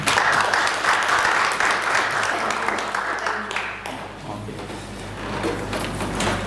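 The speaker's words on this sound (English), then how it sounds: "let us applaud again" Applause at an academic conference session after questions, sustained dense clapping from a room of attendees that slowly thins, with some murmuring voices.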